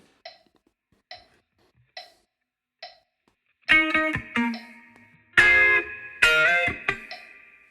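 Electric guitar plays a bar of a song: four short, evenly spaced muted staccato plucks, then a burst of brighter, sustained chords and notes with a heavy effected tone, played alone.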